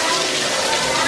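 Rain pours outdoors at Epcot during the Food & Wine festival, a loud, dense, even hiss that fills the whole moment.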